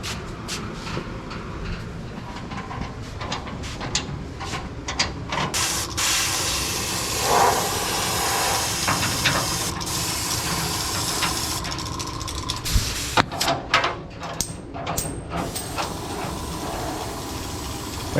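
An airbrush sprays paint in bursts of steady hissing air during touch-up work on a 1972 Dodge Challenger, with small mechanical clicks and handling noises between the sprays. The nozzle cap is clogged.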